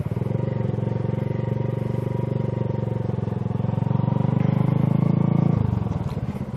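A motorcycle engine drones steadily at moderate loudness as the bike climbs a gentle incline, the tone shifting and easing near the end as the throttle changes.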